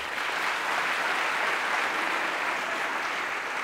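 Steady, dense applause from an audience at a political opposition convention, sustained and even throughout with no pauses, filling the hall at moderate loudness.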